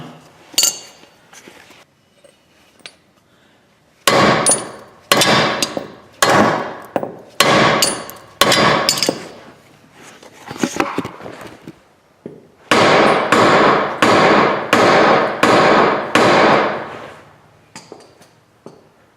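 Repeated sharp metallic hammer whacks on a Hyundai Tiburon SE alternator ring out close and loud in two quick series of blows, separated by a short pause with faint clinks.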